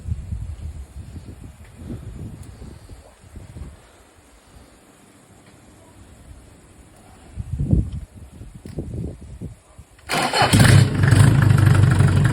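A Mercedes OM604 diesel engine with a mechanical injection pump cranks and catches, then runs loudly and steadily close by after a stretch of quiet mechanical noise.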